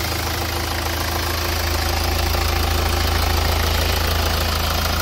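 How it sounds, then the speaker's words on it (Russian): Engine of a 2014 Hyundai Santa Fe idles close up, a loud, even, continuous rumble with a steady low throb throughout and no talking. "И мотор ровненько работает."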